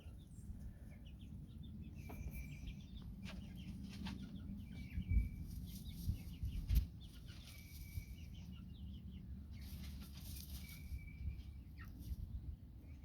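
Chickens inside a coop scratch and flap about, with soft rustling, scattered thumps and wing flutters, and intermittent faint clucks and chirps over a quiet, low background.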